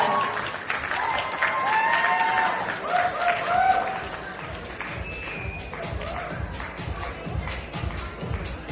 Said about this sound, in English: I want everyone to give them a round of applause